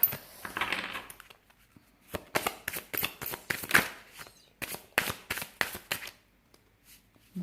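Tarot cards being shuffled by hand: a steady series of crisp riffling bursts, close and distinct, repeating roughly every half second with brief pauses between, no talking.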